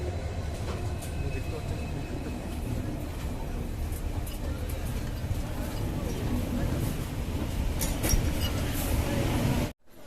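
The Saraighat Express runs on from Kamakhya Junction toward Guwahati, heard from inside a carriage as a steady, dense rumble and rattle. The noise holds even throughout and cuts off abruptly near the end.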